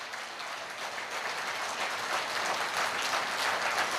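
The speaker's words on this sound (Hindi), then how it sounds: "इसलिए जोरदार तालियां मैं आपके लिए चाहूंगा।" An audience claps at an AWPL business event in Meerut, a dense, even wash of applause that swells slightly toward the end, moderately distant and with no talking over it.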